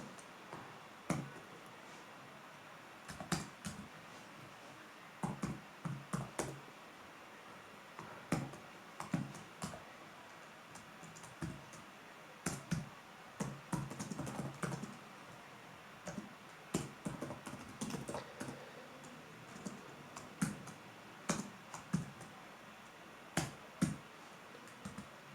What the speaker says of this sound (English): first I'm going to type the code